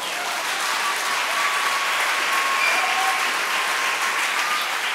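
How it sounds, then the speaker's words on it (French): A church congregation applauds steadily and loudly, a dense, continuous wash of clapping with no break. "non, vous êtes en train d'applaudir"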